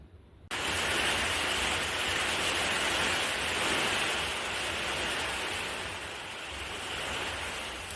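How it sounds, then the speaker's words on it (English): A violent windstorm with hail gives a steady, loud, rushing roar after a sudden onset, swelling and easing slightly but never letting up. "This wind is insane, and the storm it's not letting up."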